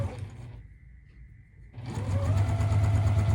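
A Juki sewing machine stitching a fabric seam along a Seam So Easy guide: a brief buzz of stitching, a pause of near quiet, then a steady, louder run of stitching close by.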